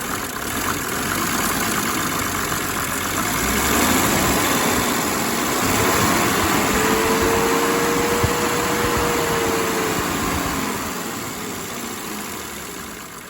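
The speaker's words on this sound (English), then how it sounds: "I love the 6-cylinder engines from Benz. They're just smooth as silk." A steady Mercedes-Benz OM603 six-cylinder diesel engine idles continuously with a smooth, even rumble and a broad mechanical hum, no voices, holding at a constant level throughout.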